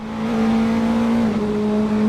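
A race car engine in the DDF Racer video game holds a loud, steady drone with a slight dip in pitch partway through, heard alone without talk.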